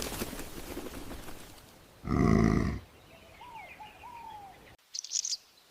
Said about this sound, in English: A small honeyguide bird flits excitedly between green acacia branches. Chattering loudly, Kigo attempts to attract a willing badger